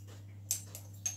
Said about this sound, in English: Oh, I think my dog wants to join me.